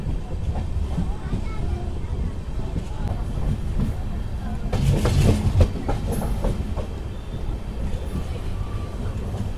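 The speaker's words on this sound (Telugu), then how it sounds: "మన ట్రైన్ వచ్చేసి పాకలా జంక్షన్ అయితే వచ్చింది, బయలుదేరిపోయింది." Express train pulling out of Pakala Junction on the Tirupati to Secunderabad run, with LHB coaches, a steady rumble and rattle of the cars and a brief louder burst of clatter midway.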